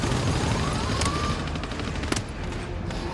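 Sustained full-auto heavy machine gun fire in the co-op shooter GTFO, a dense continuous rattle with a sharp louder crack near the end, mixed with game ambience.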